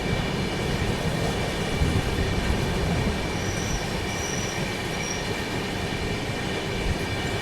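An Indore–Bhopal Express hauled by a WB5 locomotive passes alongside near Rani Kamlapati station, a loud, continuous rumble of wheels and rattling carriages with faint high squeals, no voices.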